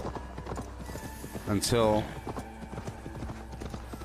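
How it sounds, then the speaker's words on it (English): In Assassin's Creed Valhalla, a horse tramples a body with steady clip-clop hoofbeats and a brief whinny midway, all beneath a continuous voice talking. "I get my horse to trample the body a couple times"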